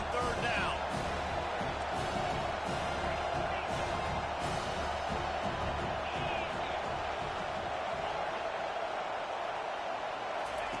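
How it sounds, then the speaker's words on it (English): Stadium crowd at a football game roaring on third down against Tennessee, a dense continuous wall of noise at steady high level with scattered claps and shouts, broadcast commentary faint underneath. "Decibels rising as the crowd gets behind this defense on 3rd down."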